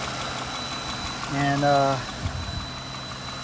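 A 2006 Lincoln LS engine idles steadily while warming up, a low continuous hum throughout with a slightly louder swell midway; someone briefly speaks.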